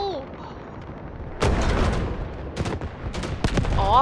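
Gunfire aimed at an enemy tank in the video game Delta Force comes as loud, close bursts and single sharp shots, with voices heard alongside.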